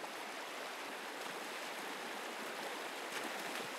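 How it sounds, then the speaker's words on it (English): An icy Arctic river of melted snow rushes steadily, a dense, even broadband roar with no pauses or voices. "you have to cross this river of melted snow"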